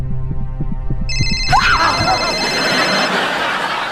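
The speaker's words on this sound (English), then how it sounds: "That was a phone." A phone rings with a pulsing electronic tone that breaks into a bright, sustained ringtone, loud and close, with a scripted scene of frightened young people around it.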